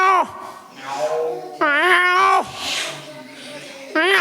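A person's voice imitates a cat, producing a few loud, drawn-out meows with rising and falling pitch, separated by short breathy pauses, close to the microphone.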